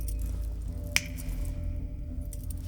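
A single sharp finger snap cracks out clearly in a quiet room, one crisp click over low background hum.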